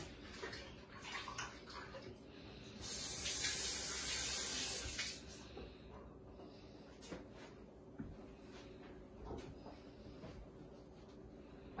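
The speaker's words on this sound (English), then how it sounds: "just gotta wash my hands for a second" Hands being washed under a running kitchen tap while making pureed vegetable soup, a close rush of water that swells for a couple of seconds and then fades to quieter splashes and clinks.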